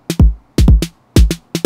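A Roland TR-606 drum-machine snare plays in a quick pattern of bright, crisp hits over deep booming kick thumps, loud and dry with no voices.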